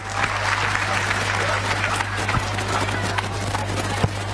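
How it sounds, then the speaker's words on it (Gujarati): A crowd at a school Krishna devotional performance event gives sustained, dense applause for the performers, with clapping holding steady throughout. "તો જોરદાર તાળીઓ થઈ જાય આપણા પરફોર્મર્સ માટે."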